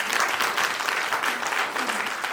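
Steady clapping from a school class and audience for the class teacher, dense and continuous applause filling the short stretch, with no voices standing out.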